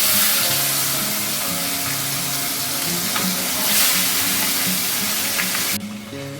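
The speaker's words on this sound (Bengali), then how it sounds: "আমি মাছের মাথা দুটো ভেজে নেব।" Two fish heads frying in hot oil for a Bengali moong dal, a loud continuous close sizzle with crackling pops throughout, cutting off abruptly near the end.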